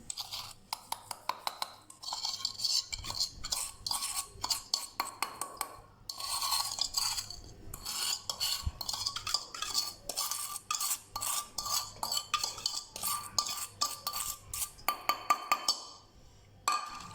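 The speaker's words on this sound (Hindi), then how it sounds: "We will mix the whole of sugar in it." Sugar being stirred into an egg halwa mixture in a pot, with repeated scraping and clinking strokes of a spoon at a fairly steady pace, moderately quiet with short pauses and no speech.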